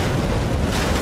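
Big fireball explosion on a film set, a dense, loud, continuous roaring rumble heard up close that fills the whole moment without a break and has no voices over it.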